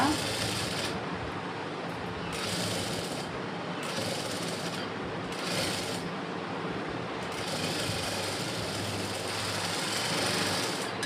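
A sewing machine runs steadily while stitching a 36-inch lined blouse, a continuous loud mechanical whir with slight periodic surges and no pauses.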